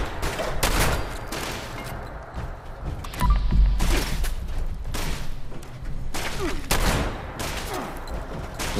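Bursts of gunfire ring out in the Fallout 76 video game, several separate volleys of shots spread across the stretch with quieter gaps between them, and one heavy booming impact partway through.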